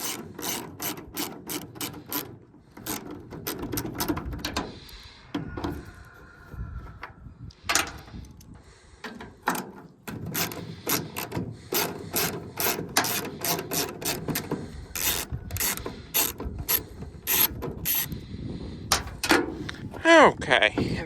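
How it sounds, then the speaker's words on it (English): A 1/4-inch ratchet loosens 5/16 bolts holding a taillight on a 2004 Ford F250 in a junkyard, with rapid repeated clicking bursts close up and brief pauses, under occasional talk. "I've got a 1/4-inch ratchet on these."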